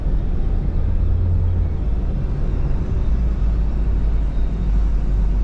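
A 2004 Ford Focus with the Zetec engine runs steadily after starting. It is a close, even, low mechanical hum and rumble, with a slight drop in pitch early on and no speech.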